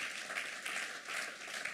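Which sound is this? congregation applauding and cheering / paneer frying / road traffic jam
congregation applauding and cheering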